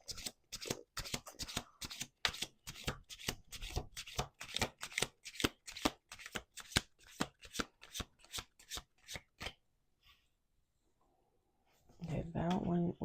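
A deck of playing cards is shuffled again and again in quick riffles during a tarot-style card reading, a long run of crisp rhythmic flutters close to the mic, then a pause before a few softer card sounds at the end.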